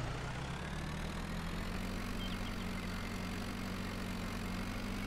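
A Fortschritt ZT tractor pulling an HW80 trailer in Farming Simulator 22 drones at a steady low engine note, close and even throughout with no voices.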